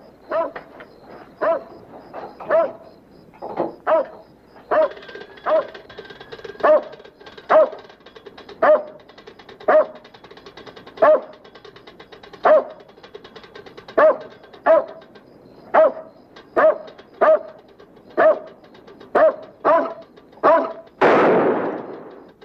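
A dog barks steadily in single and paired woofs at a regular pace for over twenty seconds, close and fairly loud, ending in a burst of broadband noise, with no talking.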